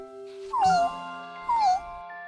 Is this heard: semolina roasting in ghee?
no